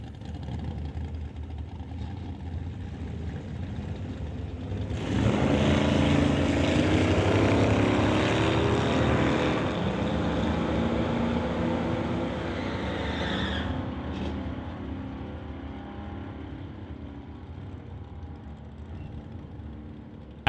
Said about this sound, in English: James McKinnon in the GMC Blazer will race out Learmonth's Nova.